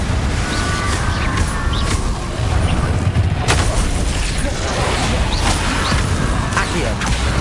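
Confringo fire spell blasts in Hogwarts Legacy, a dense, continuous roar of explosive booms and crackling impacts over a loud game soundscape, with one sharp burst standing out midway.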